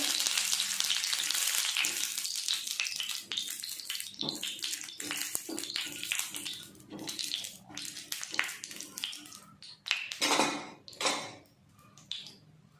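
Jowar millet batter hitting hot oil in a pan, an intense hiss at first that breaks into uneven crackling bursts and fades in waves, quiet overall with no speech.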